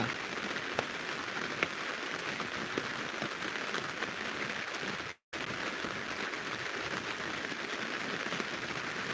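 Heavy rain pours down steadily and loudly, a dense unbroken hiss of drops on surfaces with a brief dropout midway; no one speaks.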